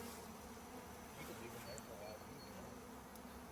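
A honeybee swarm clustered in a tree hums with a faint, continuous buzzing drone, distant and low in level, with no clear speech over it.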